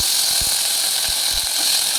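Halved green chillies fry in a little oil for a cucumber chutney, giving a loud, steady hiss with a few soft knocks and no talking.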